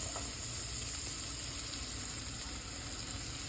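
Chopped onion sizzles steadily in a hot frying pan while chicken is being cooked, a soft continuous crackle and hiss heard close up with no one speaking.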